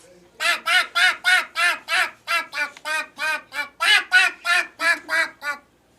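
A child imitates a duck, with about fifteen loud, nasal quacks in a steady, evenly spaced run, close up.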